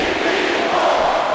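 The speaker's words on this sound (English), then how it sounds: "Listen to this crowd." Wrestling arena crowd during a Smackdown match involving the Shield and Dean Ambrose, a loud, dense, sustained roar of cheering with no individual voices standing out.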